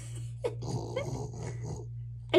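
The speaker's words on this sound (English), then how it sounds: "I love how your doggy sounds." A dog growls and grumbles low and close for a couple of seconds over a steady engine-like hum, with a sharper yelp at the end.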